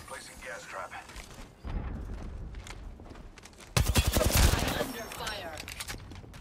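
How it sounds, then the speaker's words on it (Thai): Apex Legends gunfire during a heat wave mode, with loud automatic bursts and rapid shots cracking in clusters, the heaviest volley coming near the end, along with footsteps and other game noise while a player talks. "ขึ้นไปยิงกดหัว"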